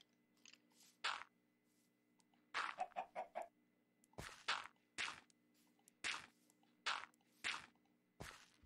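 A Minecraft chicken clucks in a string of about ten short, bright bursts spread evenly through the clip, each one loud and close over a quiet background hum, with no talking.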